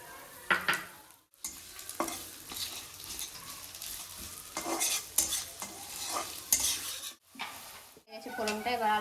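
Onion frying in hot oil in a pan, a steady close sizzle with repeated scraping stirs and clinks of a utensil against the pan, with brief pauses.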